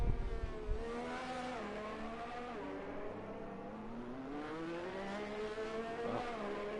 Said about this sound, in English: Cars going past.